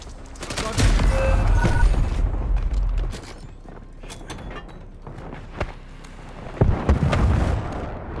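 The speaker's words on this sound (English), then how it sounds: "Throwing flash grenade!" A flash grenade goes off in Black Ops 6 with a loud booming burst, followed by rumbling gunfire and scattered blasts that fade and flare again.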